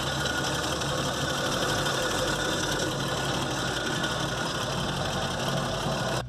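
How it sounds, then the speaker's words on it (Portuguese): A 1972 Chevrolet C10 with its original 261 six-cylinder petrol engine runs steadily at idle, a continuous even mechanical drone with a light rhythmic knock, close and alone without talk. "Vamos sentir o motor 261,"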